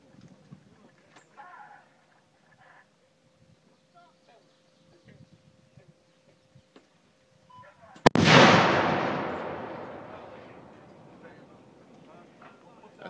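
An M777A2 howitzer fires once with a sudden, very loud boom that rolls and decays over several seconds across an open field, after quiet stretches with faint voices of the gun crew talking beforehand.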